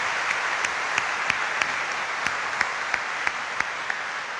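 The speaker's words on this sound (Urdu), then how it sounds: "تو آئے ہم آخر میں سب کاہنوں کو تالیاں بجا کر مبارکباد بھی پیش کرتے ہیں" A congregation at an archbishop's Chrism Mass applauds its priests, a steady wash of clapping from many hands with a few sharper claps standing out, held at an even level throughout.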